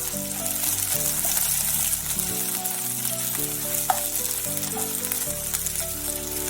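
Two large onions and five green chillies fry in a pan for mutton keema kurma, giving a steady, close hiss of sizzling oil with an occasional stir, over a steady background hum.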